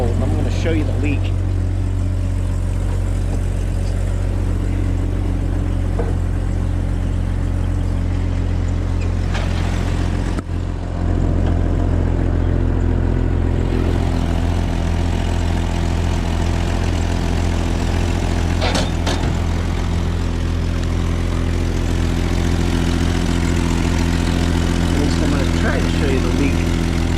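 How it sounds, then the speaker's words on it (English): A 1998 car engine idles steadily at close range, its low rumble carrying a ticking puff from a cracked exhaust manifold behind the motor mount, continuous throughout with a brief dip midway. "I have not fixed the exhaust manifold, and I'm going to show you the leak"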